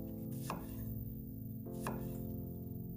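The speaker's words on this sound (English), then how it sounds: "and just roughly chop those" A knife chops tomatoes on a cutting board, two distinct thuds roughly a second apart over a steady background hum.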